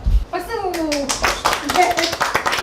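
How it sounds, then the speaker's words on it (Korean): A short burst of hand clapping from a small group in a Korean broadcast studio, quick and close, mixed with voices talking and laughing over it. "박수!"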